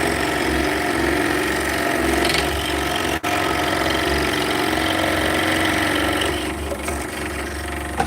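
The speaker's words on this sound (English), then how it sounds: "So a little sanding and shaping" Steady droning of a power sander working wood during shaping, a continuous buzzing whir that runs close and loud throughout with slight variations.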